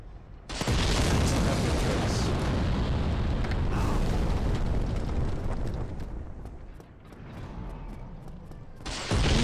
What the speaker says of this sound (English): Throw your bomb.